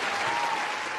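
A crowd claps steadily at a Karen Read fundraiser, a brief, dense wash of applause with no voices.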